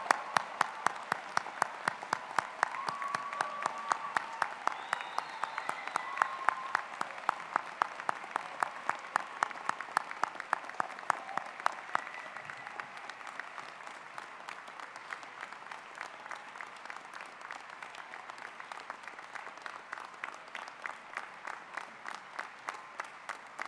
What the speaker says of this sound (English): I think we should all give the class of 2021 and all the newly minted doctors